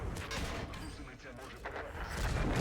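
Rapid bursts of heavy cannon fire in World of Tanks, featuring an M48A2 Räumpanzer, crash and boom continuously, loud and close, with gunfire layered throughout and rising toward the end.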